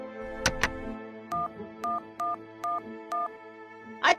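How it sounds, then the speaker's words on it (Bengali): A telephone being dialed in a Bengali cartoon: two sharp clicks, then five evenly spaced dual-tone keypad beeps, ending with a brief burst, clear and close with no talk. "আমি করালি বাবুকে ফোন করছি"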